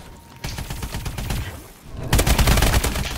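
Rapid gunfire from the Call of Duty: Advanced Warfare video game, steady bursts of shots that grow louder and denser in the second half, with no talk over them.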